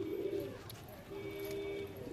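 A racing pigeon that has just landed after ten hours in flight at a desi kabutar tournament, giving soft low coos that are faint and intermittent over outdoor background noise.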